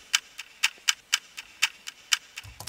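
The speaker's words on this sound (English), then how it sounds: "I also have like a clock sample" A clock-ticking sample used in a music production plays steady, evenly spaced sharp ticks on its own, with a faint low thump at the very end.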